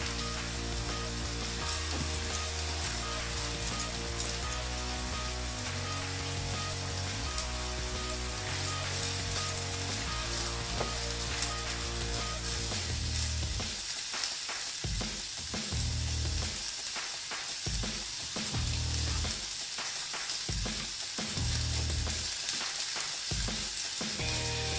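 Onion and green chili sizzle and fry in a pan for chutney, a steady bright hiss with occasional stirring scrapes, heard under background music that fades partway through.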